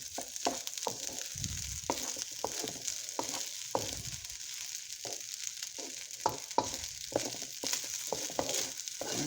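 Shrimp fried rice is stir-fried in a pan over a turned-up flame, giving a constant bright sizzle broken by repeated scraping and tossing strokes of a spatula, close and fairly quiet.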